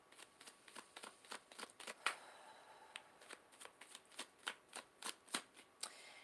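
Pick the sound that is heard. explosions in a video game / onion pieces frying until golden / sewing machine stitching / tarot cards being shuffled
tarot cards being shuffled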